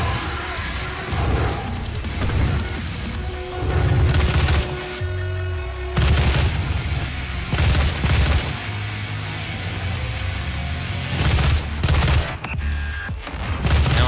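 Gunfire from a weapon in Doom (2016), loud repeated shots arriving in clustered bursts with mechanical clanks and rumbling impacts between them, close and dominant throughout.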